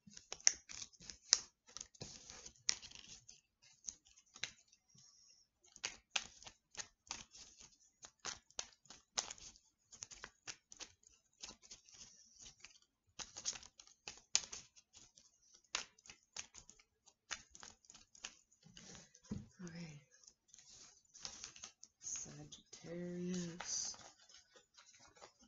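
Tarot cards are shuffled and split by hand in rapid, dense runs of light clicking and flicking. The sound is soft and close, with short pauses between the bursts.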